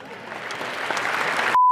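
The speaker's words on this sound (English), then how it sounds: "but listen to the claps in the background." Audience clapping and applause in the background, a steady wash of hands growing slightly louder, moderately distant, before cutting to a brief tone.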